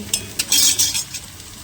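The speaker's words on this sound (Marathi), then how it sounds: "पण मी कांद्याची पेस्ट नाही केली त्याला आता फ्राय करते" Onions fry in a pan while being stirred, with a steady sizzle under brief scraping, clinking strokes of a utensil, close and fairly loud.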